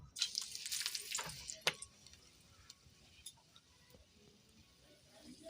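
Cardamom, cloves, cinnamon and a bay leaf drop into hot oil left from frying kebabs, crackling and popping in a busy cluster at first, then thinning to sparse, faint ticks and sizzles.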